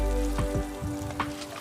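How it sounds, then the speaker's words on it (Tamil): Chopped onion and curry leaves frying in cold-pressed coconut oil for a village-style banana flower stir-fry, a steady close sizzle with a few brief stirring scrapes, no voices. "இதை கொஞ்சம் போட்டு வதங்க விட்டுறலாம்."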